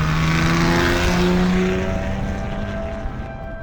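Jaguar XK120 sports car engine running, a loud droning roar that passes close with falling pitch and then fades steadily into the distance.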